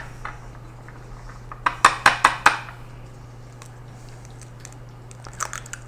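An egg going into a bowl of flour and sugar for a Swedish apple pie, heard as a quick run of four sharp taps against the bowl, then a few softer clinks over a faint background hum.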